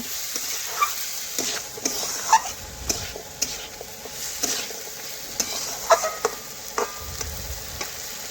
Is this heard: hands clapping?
no